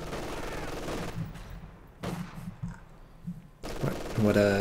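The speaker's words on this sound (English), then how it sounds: "The machine gun was out first, but it was presumably positioned somewhere else, and then it had to reposition, and suppresses them at more or less max range." Machine gun fire from the Company of Heroes 2 battlefield, suppressing conscripts at long range: repeated low thudding bursts across several seconds, moderately loud within the game's mix, with a brief louder burst at the end.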